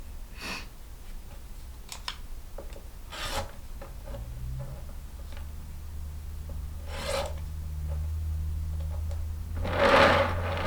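A rotary cutter slices along a ruler through fabric quilt blocks on a cutting mat, giving soft rasping strokes repeated several times over a low steady hum, close and quiet.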